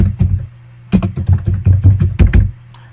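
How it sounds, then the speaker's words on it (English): Rapid keystrokes on a computer keyboard while entering a name into a Google Docs document, a close, crisp burst of clicks, a brief pause, then a steady run of typing with no voices. "So let's start typing that in."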